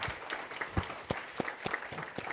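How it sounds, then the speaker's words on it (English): Scattered applause from a conference panel audience at a York, PA event, a handful of sharp, separate claps spaced irregularly, fairly faint and thin rather than a full ovation. "give her a round of applause"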